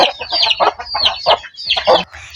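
Newly hatched chicks of a second batch peep in rapid, overlapping bursts while being fed, their calls close and fairly loud with short pauses between volleys.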